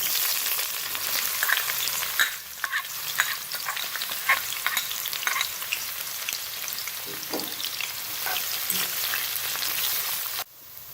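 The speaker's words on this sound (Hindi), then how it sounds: "ऑयल गरम हो चुका है, प्याज शामिल करेंगे।" Onions sizzling and frying in hot oil for a dhaba-style chicken karahi, a steady, dense crackle of spitting oil with occasional louder pops and stirring scrapes throughout, close and loud with no voices.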